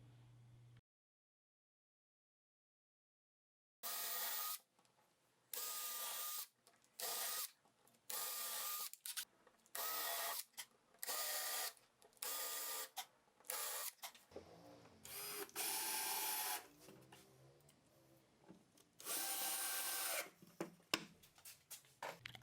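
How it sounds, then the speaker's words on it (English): A CNC router cuts into wood with a straight bit, sounding in repeated loud bursts of buzzing and grinding separated by short pauses, after a stretch of near silence at the start. "I am gonna carve everything with this straight bit."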